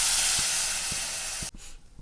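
Milk poured into carrots roasted in hot ghee sizzles and hisses loudly and close by for about a second and a half, then cuts off sharply and settles to a fainter bubbling.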